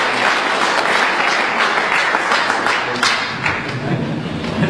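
Loud, sustained applause from a snooker audience in Gloucester greets winner Rod Lawler, a dense, even roar of many hands clapping that holds steady from start to finish with no voices.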